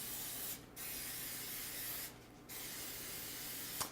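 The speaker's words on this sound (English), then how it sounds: "Spray it with your spray oil pan." Two short hissing bursts of an aerosol cooking oil spray onto a muffin pan, close and crisp, separated by a brief pause, followed by a small metallic tap.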